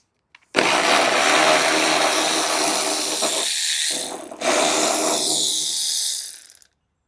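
Power tool buzzing loudly and continuously while removing a car hood, a steady close whir that briefly drops out near the middle before resuming, then stops, with no talk.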